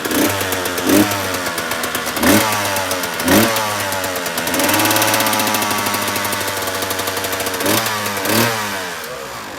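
A Kawasaki KX 125 two-stroke dirt bike engine fires up and runs, loud and close, with sharp revving bursts between stretches of rough idle and a steadier sustained run in the middle, alone with no talk.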